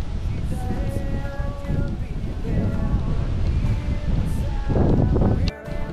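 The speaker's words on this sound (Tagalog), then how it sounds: "Ang hangin po ay nanggagaling sa palayan." Steady wind from rice fields and the sea buffets the microphone over a low rushing background of surf, continuous and fairly loud, at a beach.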